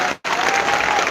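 A church congregation bursts into dense, loud applause during a priest's sermon, briefly cutting out before the full clapping surges back and continues steadily.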